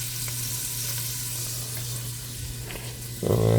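Butter and food sizzle while frying in a pot, a steady close crackling hiss with a low hum beneath it and a louder clatter near the end.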